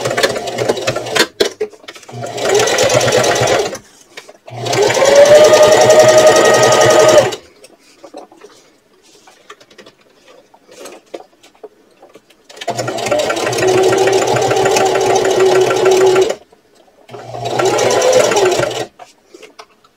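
Sewing machine stitching the lining seam of a fabric purse, loud close motor whir with rapid needle clatter in four separate bursts of a few seconds each, separated by quiet pauses.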